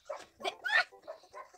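Cartoon dog barking and yipping in Papa's Cheeseria, a cooking game: four or five short, bright yaps in quick succession, each clipped and fairly close, standing alone with no talk.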